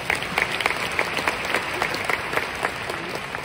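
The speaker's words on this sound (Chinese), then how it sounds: "我们给超哥一个掌声" An audience at a business training seminar breaks into steady, close applause, many hands clapping evenly for a few seconds.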